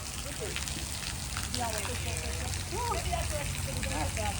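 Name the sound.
light drizzle rain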